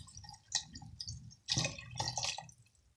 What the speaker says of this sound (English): 6 to 8 cups of water.